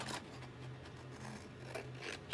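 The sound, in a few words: scissors cutting paper for an album page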